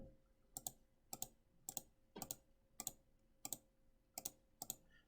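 Calculator keys pressed to enter numbers, about eight evenly spaced crisp clicks, faint and close with quiet gaps between presses.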